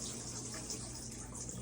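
Water rinses the dirty-water tank of a Tornado BR 18/11 floor scrubber, a faint, steady rushing hiss that runs unbroken throughout without speech.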